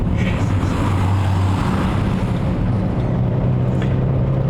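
A Mitsubishi Starion's engine drones loudly from inside the car as it accelerates to overtake, a steady low rumble mixed with road and wind noise, no talking.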